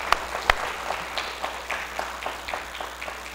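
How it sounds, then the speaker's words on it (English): Applause from a church audience after a sermon on gratitude, heard as scattered claps that thin out into sparse, uneven hand claps over a few seconds, fairly close and moderately loud. "One more round of applause."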